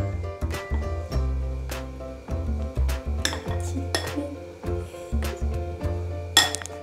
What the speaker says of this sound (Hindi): एक छोटी सी कटोरी लेंगे और चम्मच से बैटर को इसमें डालेंगे